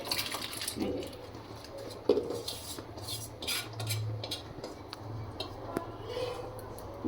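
Poppy-seed potatoes being put into hot water in a pot on a gas stove, with faint clinks of a utensil against the pot over a low kitchen hum.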